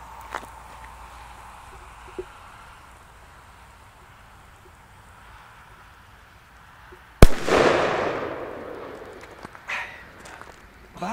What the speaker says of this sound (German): Der erste Böller des Tages, Leute.